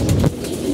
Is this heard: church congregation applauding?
no